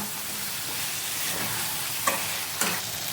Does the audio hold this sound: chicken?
yes